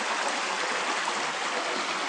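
Water flows steadily over a small garden waterfall, a continuous close rushing splash with no pauses and no voices.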